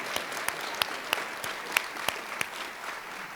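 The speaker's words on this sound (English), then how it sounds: "Another round of applause for that outstanding young lady." At a youth awards event, an audience applauds with fairly sparse, distinct hand claps rather than a dense roar, steady and moderately loud for a few seconds.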